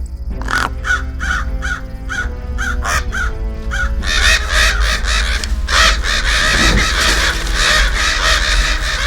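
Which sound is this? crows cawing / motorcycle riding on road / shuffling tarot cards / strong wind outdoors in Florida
crows cawing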